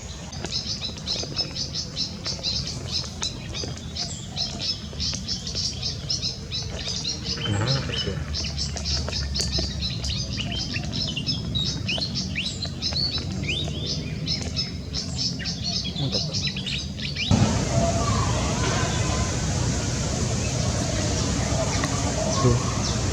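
Wild birds, jalak starlings among them, chirp and call through a dense, steady outdoor din. Insect-like buzzing runs underneath, and the ambience shifts partway through.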